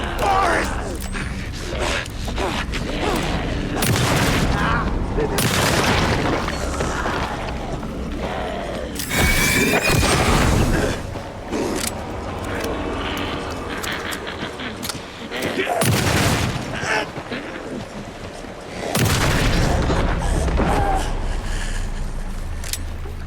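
Shotgun blasts in Alan Wake 2 going off in a forest, several loud booming shots spaced irregularly amid mechanical reloading clicks and game sound, with someone talking between them.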